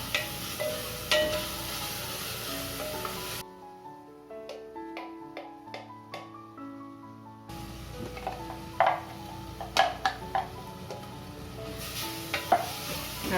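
Onion frying with ginger, garlic, green chilli and curry leaves for a Kerala mutton curry, giving a steady sizzle and spoon stirring, broken by a quiet gap with a few soft piano-like tones.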